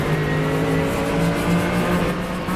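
A race car in a sim racing game accelerates hard at full throttle, its engine note loud and steady with a rising harmonic whine that holds for the whole stretch.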